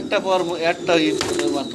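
A pair of Black Roman pigeons coo in short, repeated throaty phrases close by, with a person talking alongside.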